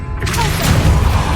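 A Revelio spell cast in the video game Hogwarts Legacy: a loud, steady magical whoosh with a deep rumbling body that swells and holds for over a second.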